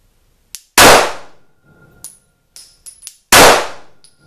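A Glock 17C pistol fires Remington Perfecta rounds outdoors on a range, two sharp, loud reports about two and a half seconds apart, with metallic clinks of ejected brass between them.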